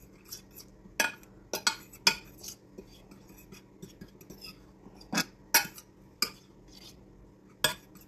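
Flour and Old Bay seasoning mixed in a bowl, with irregular sharp clinks of a utensil striking the bowl's sides over soft scraping, close and fairly quiet, no talk.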